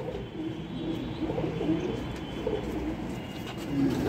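Pigeons coo repeatedly at close range, soft low throaty calls rising and falling over a faint background, during a pigeon tournament in Kolkata.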